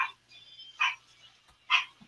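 A small teacup dog barks indoors, three short sharp yaps spaced evenly with quiet gaps between them, fairly close and moderately loud.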